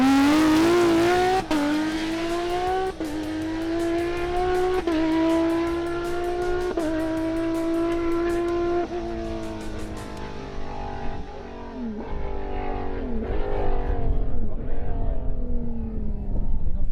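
A Porsche 997 GT3 race car laps a track near by, a melodic, high-revving flat-six howl rising through repeated quick upshifts before backing off and fading as it passes.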